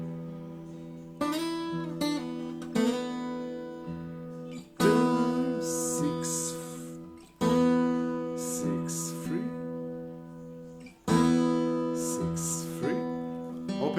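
Clean electric guitar played alone: single notes and chords from a song ring out in phrases, with hammer-ons, pull-offs and slides between pitches on open strings, separated by short pauses.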